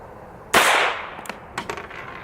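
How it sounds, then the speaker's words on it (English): A .22 Long Rifle pistol fires a solid lead bullet outdoors: one sudden sharp crack that rings briefly, followed by a few faint distant clatters. "So that's a 22 long rifle shooting a solid lead bullet."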